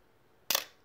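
A film SLR camera shutter fires once, a single sharp mechanical snap with a brief clattering tail, close and isolated against near silence.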